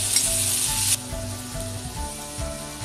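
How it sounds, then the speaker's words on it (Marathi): Onion roasting in a little oil in a pan, cooked Malvani style for a clam gravy. A steady, close sizzle runs throughout, and soft stirring scrapes repeat at a regular pace. "कांदा भाजते वेळी थोडंसं तेल टाकायचं म्हणजे कांदा चांगला भाजला जातो."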